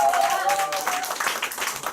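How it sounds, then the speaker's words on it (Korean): A short burst of clapping at a company group meeting, hand claps mixing under a voice that speaks over the start, moderate in level and brief. "저희에게 좋은 말씀 많이 해주신 김도원 사장님 다시 한번 큰 박수 부탁드립니다."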